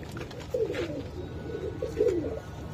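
A pigeon coos close by, two soft throaty rolling coos about a second and a half apart over a low background rumble, with no speech.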